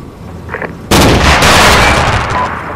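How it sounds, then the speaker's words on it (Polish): A ZU anti-aircraft gun in a video game opens fire with a sudden loud, continuous roaring burst that holds steady and close until the end, after a short faint murmur. "Spokojnie, to ja strzelam."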